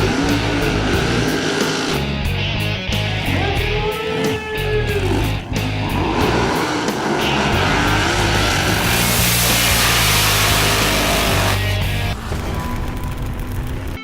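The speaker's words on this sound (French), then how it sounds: "une Camaro 67 avec un 3000 forces, un 618 pouces cubes blower alcool" A 1967 Camaro drag car with a 618-cubic-inch supercharged alcohol engine of 3000 horsepower, heard as a loud, sustained engine roar at a drag racing event, with rising and falling revs and a harsh burst of noise partway through.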